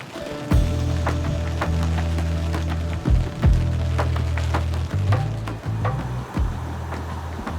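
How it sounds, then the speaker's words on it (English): Rain patters steadily on a nearby surface during a Kansas whitetail deer hunt, with scattered sharp knocks and a low constant rumble underneath. "It just started to rain again."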